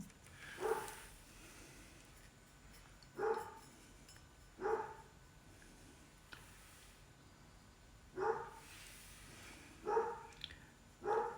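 Dog barking indoors at a distance, six single moderate barks spaced a few seconds apart over a quiet room background.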